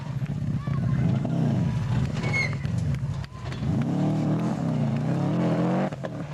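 A rally car on a stage of the 1994 Ulster Rally overshoots, its engine loud and close with revs rising and falling throughout, while a commentator talks over it.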